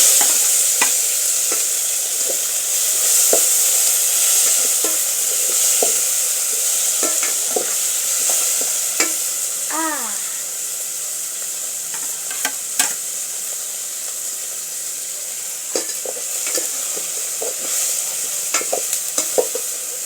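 Tomatoes fry in a pan for a home-cooked dish, giving a steady broadband sizzle with scattered scrapes and clicks from stirring throughout, no talking.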